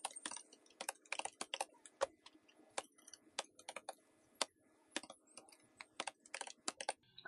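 Someone types an email ID on a computer keyboard, producing close, crisp key clicks in uneven quick bursts with short pauses, alone and without talk.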